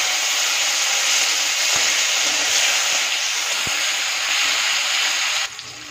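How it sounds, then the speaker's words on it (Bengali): Onions and tomatoes fry in a pan with a steady, loud sizzling hiss that holds evenly, with a couple of faint taps, then drops sharply near the end; no talk. "পেঁয়াজগুলো একটু ভাজা হয়ে এলেই এর মধ্যে দিয়ে দেবো এই কেটে রাখা টমেটোগুলো।"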